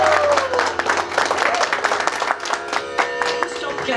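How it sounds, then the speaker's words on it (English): A school audience claps and cheers after a music department's performance at a Teachers Day celebration, with a dense, lively burst of applause and a few voices calling out over it. "One more big round of applause for music department"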